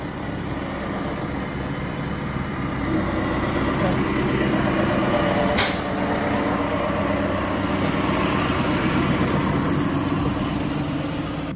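Merlo telehandler driving past on a farm: steady mid-distance engine drone that swells slightly then holds, broad and continuous, with a brief sharp hiss partway through.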